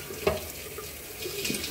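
Hot water runs from a tap into a small tub with a soft, steady splashing and trickle, faint and continuous for under two seconds.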